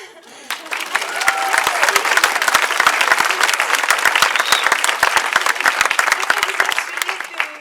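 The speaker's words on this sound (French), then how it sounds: "que d'un commun accord, tous ensemble, vous acceptiez d'applaudir très fort" A cabaret audience breaks into loud, sustained applause, dense clapping filling the room steadily from start to finish with a few louder individual claps.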